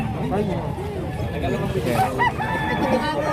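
Chickens of various colours at a poultry market or farm, with clucking and a brief crow-like call around the two-second mark, heard over continuous nearby speech and background babble.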